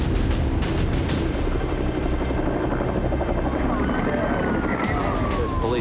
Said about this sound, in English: Polair is the police search and rescue helicopter.